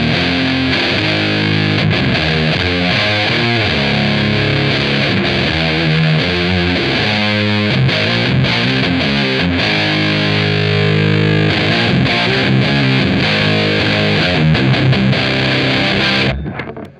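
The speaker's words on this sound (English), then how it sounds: "it's bzzz, and that means it's a fuzz sound" An electric guitar runs through the fuzz drive section of a Beetronics Zzombee Filtremulator pedal, giving a thick, buzzing, heavily distorted tone as chords and notes play continuously and loud before cutting off at the end, with no talking.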